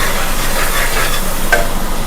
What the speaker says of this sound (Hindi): छौंक दी दोस्तों खिचड़ी हमने।